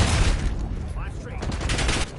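Gunfire in a Call of Duty match, dense bursts of rapid automatic shots and overlapping fusillades, loud and close, with game voice lines mixed in.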